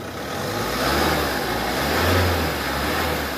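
A Mahindra XUV500 engine runs and accelerates, a steady close drone that swells twice as it revs, with no voices.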